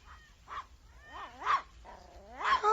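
A small dog in a radio drama gives several short whining yelps and barks, spaced apart and fairly close, with quiet room tone between them.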